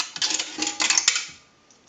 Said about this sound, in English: We'll use a quarter first. That will gong.